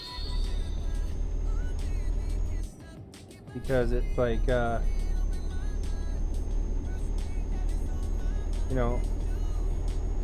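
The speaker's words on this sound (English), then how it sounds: "big truck engine." A big truck engine in Euro Truck Simulator 2 holds a steady, low droning rumble all the way through, with someone talking over it.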